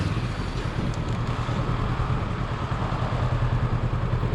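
Honda CB500X motorcycle riding through rush hour traffic, a steady low engine drone under heavy wind rush, continuous and loud with no talking.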